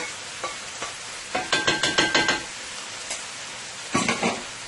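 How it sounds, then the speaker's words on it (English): Shrimp goes into a pan of frying bora, heard as a quick run of close metallic stirring scrapes and clinks over a faint sizzle, followed by a few more scattered scrapes. "Now I will add my shrimp into my Bora here."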